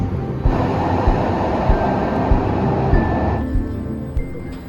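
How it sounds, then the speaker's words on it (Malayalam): A tram runs on Budapest's best-known line along the Danube, giving a loud, steady rumble of wheels with rhythmic thumps over rail joints, then eases off near the end. "The most famous tram line in Budapest."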